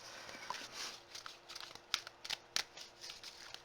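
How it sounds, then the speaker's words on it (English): Tarot cards being shuffled, a quiet run of soft papery riffles and light taps with a few sharper card snaps, close by and without speech. "Let me just put a good shuffle on these cards."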